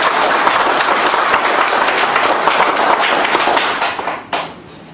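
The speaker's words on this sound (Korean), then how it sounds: "여러분들 박수 부탁드립니다" An audience at a Korean patriotic rally applauds, loud continuous clapping close by that tapers off near the end with a few stray claps.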